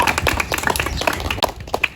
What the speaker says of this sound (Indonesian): Beri tepuk tangan dulu untuk Kanja.